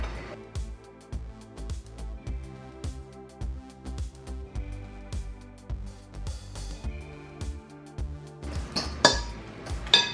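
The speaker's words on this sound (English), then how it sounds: "And then just with a fork, I'm gonna mash them all up." Ripe bananas mashed with a fork in a bowl make a steady run of quick clinks and scrapes of metal on the dish, with a louder clatter toward the end.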